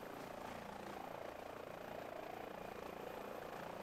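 A helicopter flying near the Monaco heliport, its rotor and engine making a steady, dense whirring drone that stays loud and unchanging throughout, with no voices.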